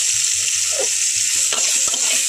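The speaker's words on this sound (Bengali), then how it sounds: "এইদিকে উচ্ছেটা আমি লবণ আর হলুদের সঙ্গে ভালো করে একটু নাড়াচাড়া করে নেব আর খুব ভালো করেই এখানে ভেজে নেব।" Bitter gourd fries in oil with salt and turmeric for a Bengali sukto, producing a loud, steady hiss with occasional stirring clicks and knocks.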